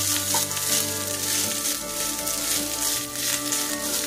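Rice with ghee and spices sizzles loudly in a hot pan as it is stirred for matar pulao, a dense continuous frying hiss with scraping movement throughout and no talking.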